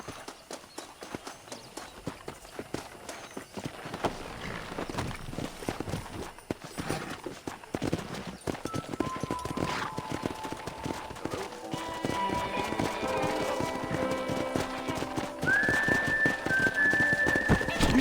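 Steady horse hooves clip-clop through the scene amid game ambience in the video game Red Dead Redemption 2, with a bright whistle-like tone rising near the end.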